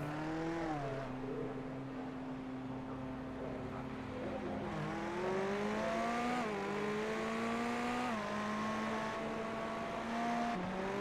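GT3 race car engine in iRacing at Magny-Cours, held at steady throttle, a continuous droning whine with rising and falling pitch steps as gears change, loud and close throughout with no talk.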